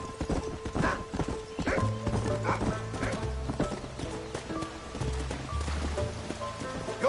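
Hooves of a horse clip-clopping at a gallop in Red Dead Redemption, a rapid close rhythm of strikes with a brief whinny, under music.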